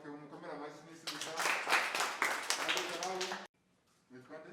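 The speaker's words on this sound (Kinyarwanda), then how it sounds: "Okay, mukomere amashyi" An audience applauds at a school event, dense clapping lasting a few seconds that begins and stops abruptly, with a voice talking over it at the start.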